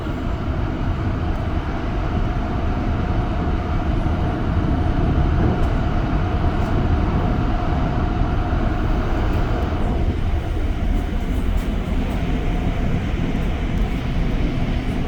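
A REM light metro train between Brossard and Canora stations rumbles steadily at loud volume, a continuous roar with a hum that shifts in pitch near the end as it moves along.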